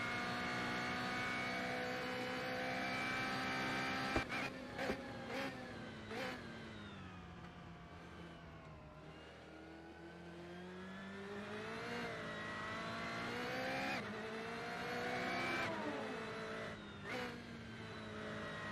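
A car engine in a racing video game revs steadily through rising and falling pitch sweeps, loud and continuous with a few sharp shifts, and no talking.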